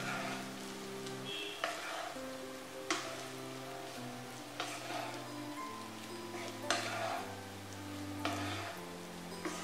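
Masala egg rice with coriander stirred in a pan, soft scraping strokes every second or so over a low steady sizzle, with faint tonal background hum.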